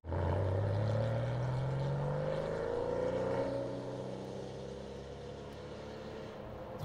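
Porsche 993 restomod with a 3.8 litre flat-six boxer engine, a loud, steady rising exhaust drone that climbs in pitch through the revs, then eases to a lower sustained note; no talking.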